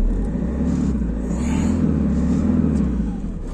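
Camper van engine labouring to pull away in first gear, with a steady loud low rumble and strain that swells slightly through the middle before easing off, heard close from inside.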